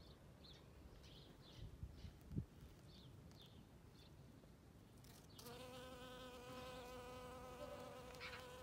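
Honeybees buzz around early spring flowers such as primroses, squills, lesser celandine, adonis and crocuses, a faint steady hum close by that swells into a fuller, continuous drone partway through.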